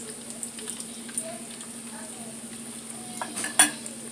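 Zucchini fritters frying in a pan make a low, steady sizzle close by, with a few light clinks and a sharper utensil tap near the end; no one speaks.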